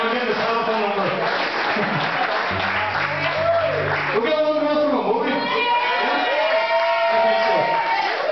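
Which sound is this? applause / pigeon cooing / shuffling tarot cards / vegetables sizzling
applause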